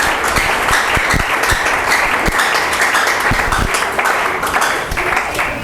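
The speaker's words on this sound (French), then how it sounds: "Est-ce que tu peux acclamer le Seigneur?" A church congregation applauds and cheers in praise of the Lord, a dense, sustained wash of clapping with scattered louder claps and crowd voices, steady and loud throughout.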